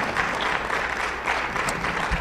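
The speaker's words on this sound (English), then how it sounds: "So how about a round of applause for them?" Teachers at a school state-of-the-school meeting receive a burst of audience applause, dense continuous clapping that stays loud and even throughout the short stretch.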